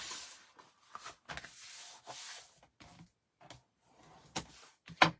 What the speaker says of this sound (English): we're going to give these a little burnish